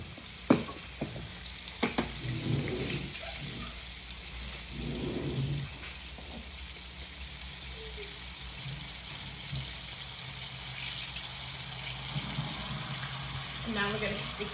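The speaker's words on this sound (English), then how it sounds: "we're gonna keep the heat back up because I turned the heat off, and we're gonna let this simmer and slowly cook together" A honey and light brown sugar wing sauce cooking in a pan, giving a soft steady bubbling sizzle up close, with a few sharp utensil taps near the start.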